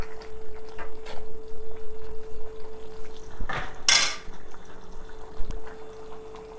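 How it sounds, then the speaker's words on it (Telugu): Sun-dried lentil fritters (vadiyalu) go into a pot of simmering egg tamarind stew, with clattering and scraping of metal utensils and a brief sharp splash amid the kitchen noise. "ఇప్పుడు వడియాలు వేసుకుందాం"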